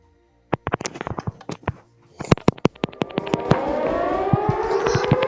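Sharp percussive clicks and bangs give way to the loud rising siren wail of Siren Head in Minecraft, swelling and holding, droning on steadily to the end.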